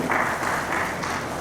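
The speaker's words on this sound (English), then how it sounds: "Please put your hands together." Audience applause at a hospital cancer centre launch event, a brief dense wash of many hands clapping, loud and steady with no talk over it.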